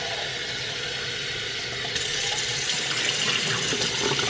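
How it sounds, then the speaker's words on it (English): Cold tap water runs steadily into a pot of hard-boiled eggs in a kitchen sink to cool them, a continuous close hiss and splash that grows slightly fuller and brighter partway through as the pot fills. "filling it with cold water to cool down the eggs because you're gonna have to actually peel them."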